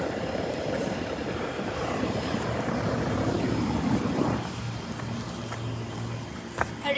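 A noisy, very old rooftop HVAC unit on a medical park building drones continuously with a broad rumbling roar, plus a steady low hum that drops slightly in level partway through.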